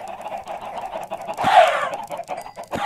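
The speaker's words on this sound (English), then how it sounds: "Silence these chickens." Chickens in Minecraft cluck in a busy, overlapping chorus, with one louder squawk in the middle amid steady background clucks.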